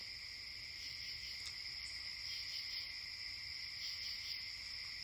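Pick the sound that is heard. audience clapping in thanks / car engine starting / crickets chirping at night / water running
crickets chirping at night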